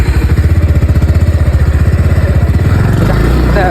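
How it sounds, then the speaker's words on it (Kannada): A motorbike engine runs loud and close with a rapid, even thumping pulse, the throb smoothing into a steadier drone near the end. "ಗಾಡಿ ಸ್ಟಾರ್ಟ್ ಮಾಡು, ಹೋಗ್ತಾ ಇರು"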